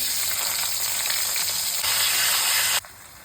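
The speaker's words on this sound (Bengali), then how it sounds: "অ্যাড করছি কুচানো পেঁয়াজ" Chopped onion sizzles in hot oil for potato curry, a loud, dense, continuous frying crackle heard up close that drops away abruptly just before the end.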